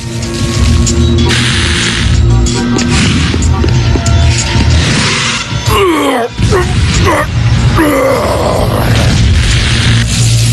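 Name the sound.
cartoon explosion of Energy Man overloaded with energy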